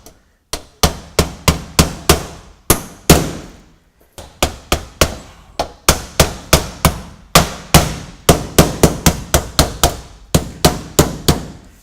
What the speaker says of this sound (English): and nail down my overlap.